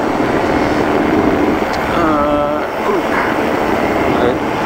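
A PeaBee light aircraft's engine drones loudly and steadily in flight, a dense wind-buffeted roar heard from inside the cockpit, with a faint voice under it.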